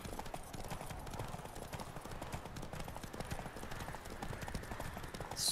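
Roach, the horse in The Witcher 3: Wild Hunt on PS4, gallops steadily, her hoofbeats a continuous rhythmic clip-clop at moderate distance and fairly low volume.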